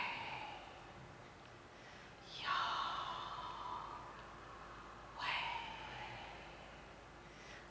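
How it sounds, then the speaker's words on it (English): Two slow, deep breaths drawn in and released during a guided meditation, each a soft airy swell standing alone in a quiet room, spaced a few seconds apart. "you breathe in the Yah, Yah, and you breathe out the way"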